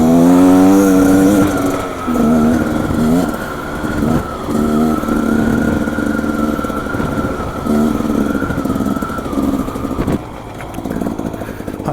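A Beta 480 four-stroke dirt bike revs and changes pitch as it is ridden, its loud engine note rising and falling close by over about twelve seconds, with brief scrapes and tire noise between throttle bursts.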